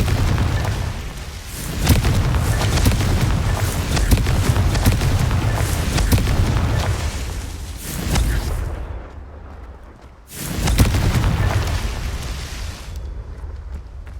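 A Confringo spell blasts in Hogwarts Legacy, bringing a loud roaring explosion with deep booming rumble that sustains for several seconds, then a second heavy burst follows after a brief lull.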